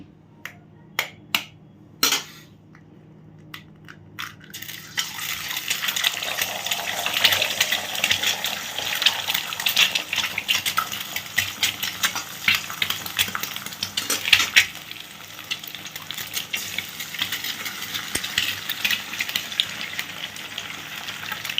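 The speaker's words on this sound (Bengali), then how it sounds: "তো দেখো আমার কিন্তু তেলটা খুব ভালোভাবে গরম হয়ে গেছে, আমি হাত দিয়ে দেখে নিলাম। তো 2টো ডিম আগে আমি ফাটিয়ে দিচ্ছি।" Two eggs are cracked against a pan's edge in a few sharp taps, then drop into hot oil and set off a loud, crackling sizzle that spits and pops unevenly for the rest of the stretch.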